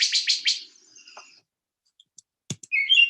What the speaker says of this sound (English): Now we hear the robin,